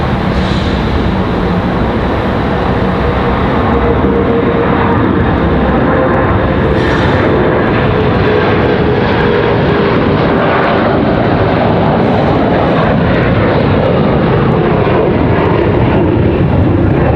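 A PSA CRJ 900LR jet departing at night from Raleigh Durham International toward Philadelphia, a loud sustained engine roar with broadband rush that holds steady throughout.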